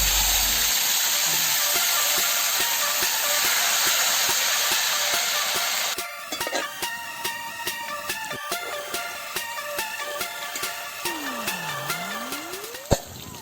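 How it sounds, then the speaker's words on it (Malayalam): Prepared potatoes fry in hot oil in a pan for an egg biryani, giving a dense, steady sizzling hiss for about six seconds before it cuts off and gives way to light musical tones and chimes. "ഇനി ഇതേ എണ്ണയിലേക്ക് നേരത്തെ തയ്യാറാക്കി വെച്ചിട്ടുള്ള ഉരുളക്കിഴങ്ങ് നമുക്ക് ഇടാം."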